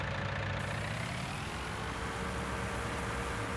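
A heavy farm machine engine in Farming Simulator 19 drones continuously at close range, a loud rumbling hum that holds steady without pauses or voices.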